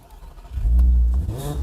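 A car engine cranks from a push-button starter and catches, then revs hard in a short, loud burst that settles back slightly, heard close and alone.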